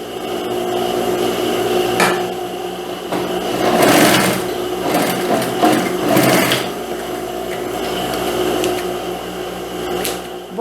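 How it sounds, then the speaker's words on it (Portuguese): Sewing machine running steadily as it stitches the waistband of a lined skirt with box pleats, a continuous close mechanical whir with brief louder surges, no talking. "Eu só venho aqui no finalzinho e passo a costura."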